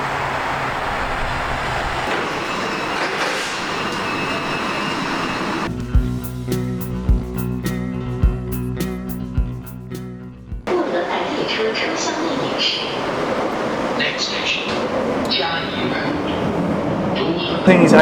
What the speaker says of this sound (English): Let's jump back on the metro and start our journey.